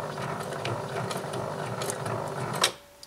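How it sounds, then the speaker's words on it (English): A sewing machine back-stitches a few stitches at the end of a seam on a five-panel cap patch, a steady close mechanical whir with rapid ticking that stops abruptly near the end. "Now at the end you just want to lock the stitch"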